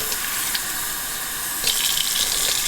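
Water is poured over dried hibiscus flowers in a container for tea, a steady close splashing stream that grows brighter and fuller partway through.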